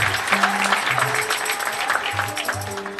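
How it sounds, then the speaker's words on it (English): A congregation at a cathedral Mass for a bishop's priestly anniversary claps steadily and warmly for the clergy, with sustained applause filling the hall and music faintly underneath. "Can we clap to God for this?"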